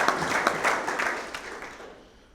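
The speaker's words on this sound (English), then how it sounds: "let's give him a big round of applause for starting that tradition" A club audience at a football touchdown club meeting gives a round of applause, a short burst of clapping that starts loud and steadily fades away to near silence.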